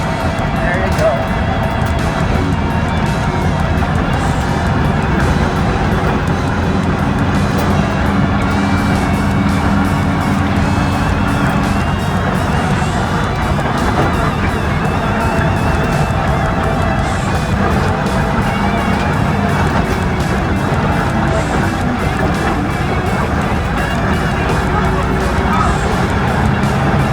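VW Baja Bug with a manual gearbox driving over dirt and rocks, a steady loud engine drone and rumbling bumps from inside the car throughout, with people talking over it.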